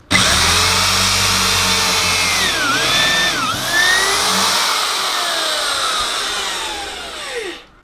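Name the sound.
drilling a 4 mm hole through a piece of wood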